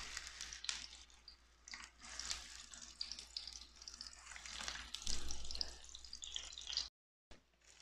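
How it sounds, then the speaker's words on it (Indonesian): Onions sizzle in a frying pan as the first step of Yemeni shakshuka, a steady close hiss and crackle that drops out briefly near the end, with no talking. "Kita goreng terlebih dahulu bawang."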